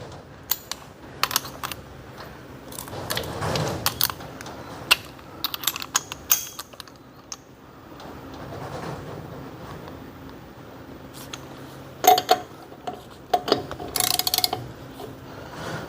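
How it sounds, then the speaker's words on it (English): Torque wrench tightening trailer wheel locks, with scattered ratcheting clicks and metallic mechanism sounds in irregular bursts across a quiet room, close by, no talk. "tightening these down with the torque wrench"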